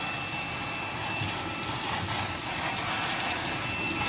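A Fanttik Fold V10 Ultra Deluxe handheld vacuum runs steadily inside a Tesla while it sucks up cracker or chip crumbs and leaves, giving a constant close whirring drone with faint rattles of debris throughout.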